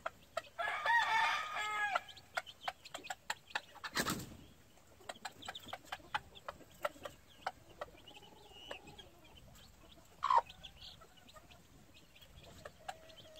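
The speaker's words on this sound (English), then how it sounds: "Very smart chickens." Gamefowl chickens clucking and crowing nearby, with a rooster's crow near the start and scattered sharp clicks and pecks throughout.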